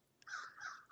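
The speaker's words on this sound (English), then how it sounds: "Do you hear those birds in the background?" A single harsh crow caw, two quick rasping notes, clear and moderately close, with no other sound around it.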